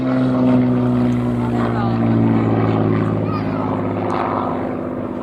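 A WWII Hawker Hurricane fighter, a Battle of Britain veteran, drones steadily overhead at an airshow, its piston engine a loud, continuous hum with a voice talking over it throughout.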